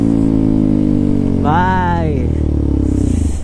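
A KTM RC 200 motorcycle fitted with an SC Project exhaust, loud and close, revving hard with a sharp rising pitch in the middle before settling back, while someone speaks briefly over it.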